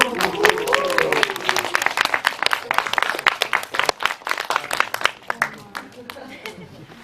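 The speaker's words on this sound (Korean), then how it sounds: "여러분 박수 한번 부탁드릴게요" Audience applause at a film screening Q&A at CGV Apgujeong, a dense patter of many hands clapping that runs throughout and gradually thins toward the end, with a voice briefly over the start.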